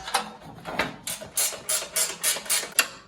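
A speed wrench ratchets quickly to back out a carburetor bolt on a Yard Man snow thrower with a Power More engine, giving a close, crisp train of clicking pawl bursts in a steady rhythm.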